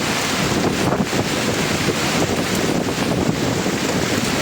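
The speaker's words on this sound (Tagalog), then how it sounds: "Grabe yung hangin o." Strong wind buffets the microphone in a constant heavy roar on Boracay island, with a wash like surf beneath it and no voices.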